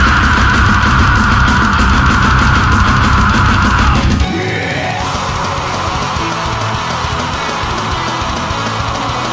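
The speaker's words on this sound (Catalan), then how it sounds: "començar un tram de la cançó amb un crit gutural" A guttural scream opens a heavy metal song section, loud and dense over full-band distorted music, with the texture shifting abruptly about four seconds in before the heavy playing carries on.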